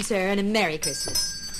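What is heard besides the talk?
Salvation Army handbell ringing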